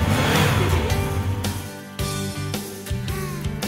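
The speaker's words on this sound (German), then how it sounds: "Scout macht ein Brumm-Brumm-Geräusch." A cartoon toy car named Scout revs with a bouncy vroom sound over a children's song backing, lively engine-like tones rising and repeating in short bursts, loud and close.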